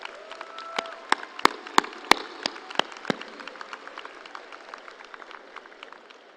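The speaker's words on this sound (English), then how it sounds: "Let's give them a round of applause" Scattered applause from a crowd at a high school graduation, with several sharp loud claps early on that thin out into quieter, fading clapping.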